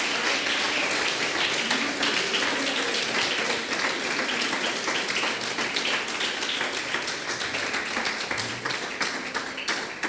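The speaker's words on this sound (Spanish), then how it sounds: "Dale un fuerte aplauso al Señor" A church congregation in Santa Coloma de Gramenet breaks into sustained applause during an evangelical service, a dense, continuous wash of many hands clapping at steady loudness for about ten seconds.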